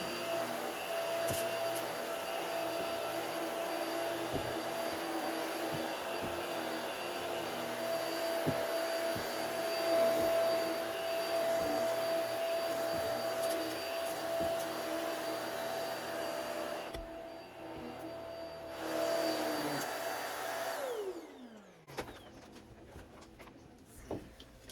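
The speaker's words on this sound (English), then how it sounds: "this is a satisfying little mini closet clean vacuum for you" A vacuum cleaner runs steadily while cleaning a small closet, a loud continuous whine and roar for about twenty seconds before the motor cuts off and winds down.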